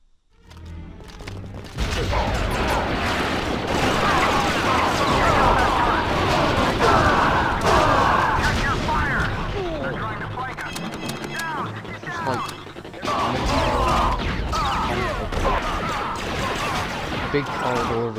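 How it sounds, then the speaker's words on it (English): Dense, continuous barrage of blasts and gunfire in the 2005 video game Star Wars Battlefront II, loud and relentless with a brief lull, while someone talks over it. "Big corridor of explosions."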